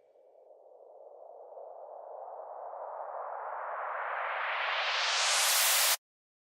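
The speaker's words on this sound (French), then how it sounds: "Nous avons déjà créé un bruit blanc avec une sensation de montée." A white noise riser synthesized in Logic Pro X sweeps upward for about six seconds, growing brighter and louder as it climbs, then cuts off abruptly into silence.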